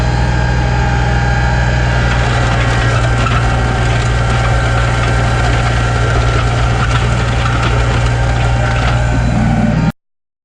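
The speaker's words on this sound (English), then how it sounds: "You can see as I go along the blade is jumping across the ground creating a washboard effect." Tractor engine running steadily while dragging a blade over a gravel driveway at too fast a speed, a loud continuous drone with rattling and scraping on top, cutting off abruptly at the end.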